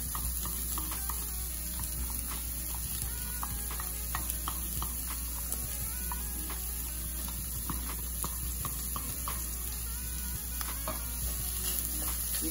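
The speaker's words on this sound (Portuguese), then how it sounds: "E vamos deixar aqui essa cebola refogar." Onion sautéing in a pan for aipim and calabresa fritters, a soft, steady sizzle with scattered light ticks and scrapes, close but fairly quiet against a constant background hum.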